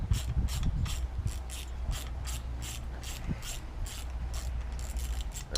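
A tool is wound out on an RC car's carrier fitted with an OBR 30.5cc engine, producing a quiet, close run of evenly spaced ratchet clicks with light mechanical rubbing.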